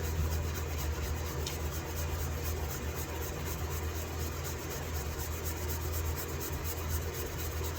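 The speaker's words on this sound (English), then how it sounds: "Once again with mothers, don't need to press, you just need to rub it on." Hand rubbing of Mothers metal polish onto a restored metal jack, a steady soft scrubbing texture that continues without pause, close and moderately quiet against a constant low hum, with no voices.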